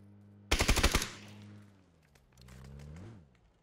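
A sharp burst of automatic gunfire rattles off about eight rapid shots in PUBG, then the sound decays into a low rumbling tail and a fainter mechanical whine.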